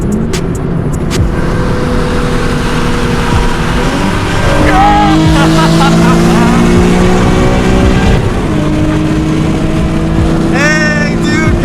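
A car accelerates hard while racing another car on a night road, its engine note climbing through rising revs and gear changes, loud and close, with voices briefly mixed in.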